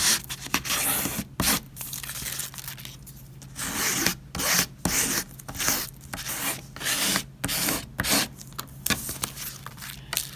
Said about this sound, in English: put the paper back down on top again as you burnish it to get the adhesive to stick to the articles that you put down